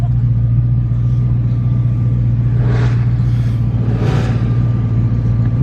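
A large group of cars setting off together on a group drive: a loud, steady low engine rumble runs throughout, with two brief swells as vehicles pass close by.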